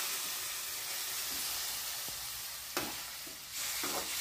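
Tomatoes fry in a pan for Andhra-style brinjal chutney, a dense continuous sizzle and hiss with a few soft stirring scrapes near the end, no talking.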